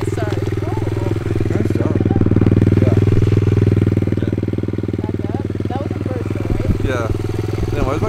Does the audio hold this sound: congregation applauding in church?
no